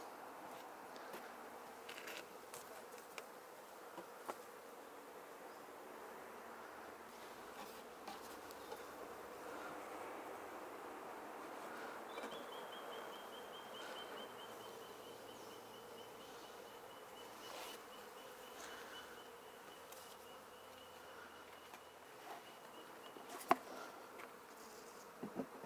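A honey bee swarm buzzing outdoors, a dense, steady hum that fills the entire stretch, with occasional faint clicks and handling knocks and a brief high whine partway through.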